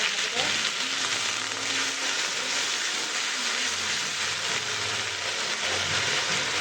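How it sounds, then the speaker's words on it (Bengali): Green chili, tomato and garlic paste sizzles steadily as it sautés in a pan, a continuous loud frying hiss with faint stirring scrapes and no talk. "কাঁচা লঙ্কা টমেটো আর রসুনের ওই পেস্টটা দিয়ে দিয়েছি দিয়ে একটু কষিয়ে নেব মশলাটা"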